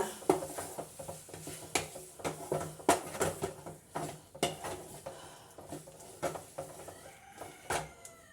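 Noodles stirred into tomato masala in a pan: irregular scraping and clinking strokes of a utensil against the pan, moderately close, with quiet pauses between strokes.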